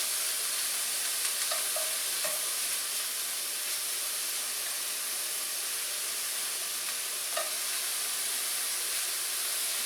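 Ribeye cheesesteak meat frying in a pan makes a steady, close hiss of sizzling, with a few faint clicks of a utensil scattered over about ten seconds.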